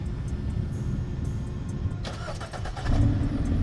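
A 2021 Jeep Renegade North 80th Anniversary Edition with a small 2.4-liter engine cranks and catches partway through, then settles into a close, steady idle after quiet background noise.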